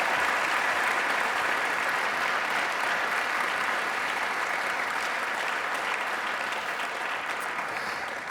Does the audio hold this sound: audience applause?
yes